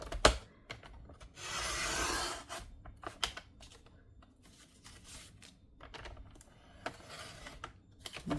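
A paper trimmer blade slides along its track while trimming scrapbook paper, with a brief scraping swipe followed by scattered light clicks and handling taps, close and without speech.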